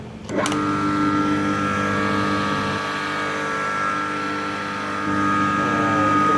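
A 2-inch, 220-volt electric water pump gives a steady motor hum with constant tonal drone throughout, loud and close, with a brief click at the start; no talking.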